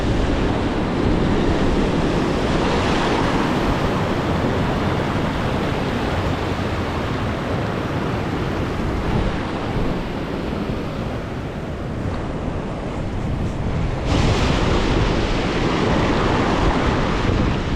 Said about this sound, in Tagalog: Ayan ang laki ng alon.